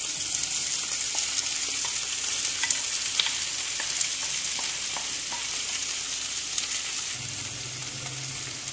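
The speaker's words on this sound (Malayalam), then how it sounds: "കാബേജ് ഇട്ട് കൊടുക്കുകയാണ്." Cabbage stir-fries in a hot pan with curry leaves, a dense continuous sizzle up close, broken by light scraping taps of a spatula; a low hum comes in near the end.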